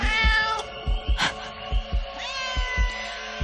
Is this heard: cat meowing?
yes